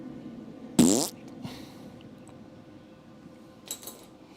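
A welder blowing through thin metal on a Charger crew cab project gives a single short, raspy sputtering burst like a fart into a cup, followed by faint scattered ticks and a second brief sputter.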